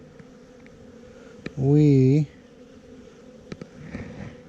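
A single honeybee from a weak Texas hive of about six frames buzzes loudly and close for about half a second with a wavering pitch. A faint hum from the colony and a brief voice follow.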